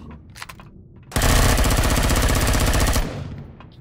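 Ship guns fire in the Empyrion Galactic Survival video game, a loud, close, rapid hammering stream lasting about two seconds after a few faint ticks, then abruptly cutting off.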